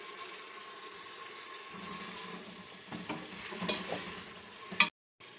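Steady sizzling and frying of tomatoes, ginger, garlic and green chillies in a pan with stirring scrapes, building slightly louder toward the end before cutting off abruptly; no talking.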